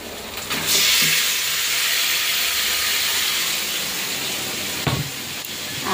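Meat marinated with cumin, turmeric and oil hits hot oil in a home kitchen pan, bursting into a loud, steady sizzle that hisses on continuously, with a brief clatter near the end.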